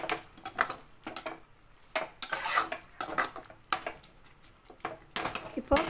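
A spatula stirs and scrapes finger millet (ragi) vermicelli in a metal pan, with irregular clinks and scratchy strokes that come loud and close in uneven bursts, separated by brief quieter pauses.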